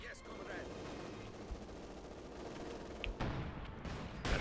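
Company of Heroes 2 battle gunfire strikes a bunker: a dense, continuous rattle of shots and impacts under steady battlefield rumble, with a sharper burst near the end.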